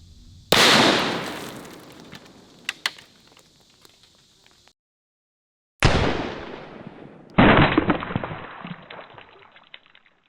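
Rifle shots from a 6.5 Creedmoor ring out outdoors, three sharp loud cracks with echoing tails and a brief silence between the later two.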